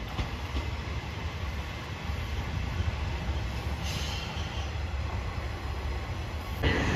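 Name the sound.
diesel railcar train running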